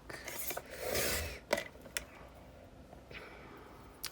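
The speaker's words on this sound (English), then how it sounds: "I'm going to cut another 3/8 inch piece here" Handsaw cutting a 3/8 inch piece of wood for a barn door decoration: a few quiet rasping strokes, one longer pass followed by short scrapes and ticks, faint and close with no talking.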